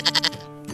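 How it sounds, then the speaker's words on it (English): A goat gives one short, close bleat that wavers in three quick pulses and then trails off into a soft, fading tail. "It's a goat!"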